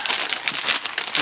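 A perforated end of a shipping package being ripped open: a loud, close burst of crinkling, tearing plastic and paper, continuous and scratchy for just over a second.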